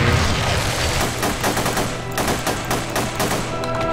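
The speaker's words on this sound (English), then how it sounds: "Let's see if shooting it does anything." Rapid gunfire in The Punisher video game, aimed at a tank on a pier level, sustained bursts of sharp shots with loud dense echoing reports over a game backdrop.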